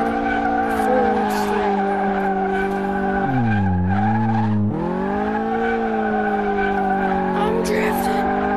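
In the Car Mechanic Simulator driving game, a car drifts with continuous loud tire squeal over a steady engine drone, its pitch dipping in the middle before rising again.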